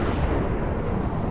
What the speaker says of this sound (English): we come through here, it's a very loud explosion